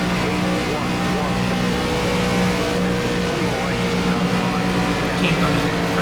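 A pack of ARCA race car engines at Talladega in the iRacing video game drones steadily and loudly without break, with someone talking over the racing.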